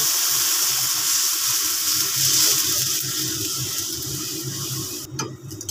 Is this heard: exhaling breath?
no